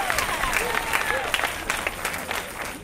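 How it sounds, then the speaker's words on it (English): A round of audience applause for a children's choir at an honorary street-naming ceremony, moderately loud scattered clapping with a few voices mixed in, fading slightly toward the end. "How about another round of applause for the children's choir?"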